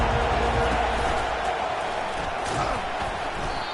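Dense stadium crowd roar from a Madden football video game during a top-25 college matchup, a steady, loud wash of massed voices that holds without letting up across the whole stretch.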